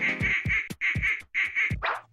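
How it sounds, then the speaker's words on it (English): A feisty duck quacks loudly and close by in a run of three harsh, nasal honks with short breaks between them, then gives a final rougher, breathier squawk. "and one feisty duck."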